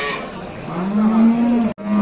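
At a livestock market, a cow with a calf gives one loud, close, drawn-out low moo that rises and holds, then cuts off briefly before the sound picks up again.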